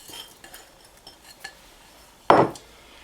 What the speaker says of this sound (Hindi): इसको हम हल्का सा मिक्स कर लेते हैं।